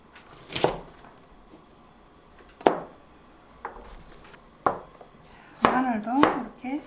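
A knife cuts thin slices of garlic scapes on a cutting board, giving several separate crisp chops at irregular intervals, with a brief rustle near the end.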